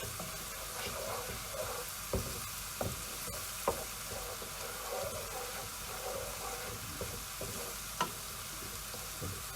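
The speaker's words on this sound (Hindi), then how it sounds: "तीन चार मिनट और इसे भूनेंगे ताकि अच्छी तरह से ये मसाला तैयार हो जाए।" A spice masala with red chilli and turmeric for ghiya tori fries in a pan with a steady, hissing sizzle, broken by a few sharp spoon clicks and scrapes as it is stirred.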